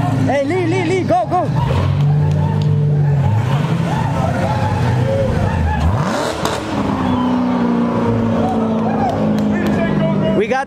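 A Lamborghini at a street car meet in Beverly Hills revs hard and shoots exhaust flames, its engine note rising and falling loudly up close while people shout and talk excitedly over it, with police nearby.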